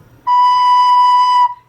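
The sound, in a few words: recorder played with slow warm air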